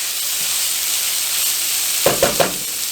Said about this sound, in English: And we have our butter melting.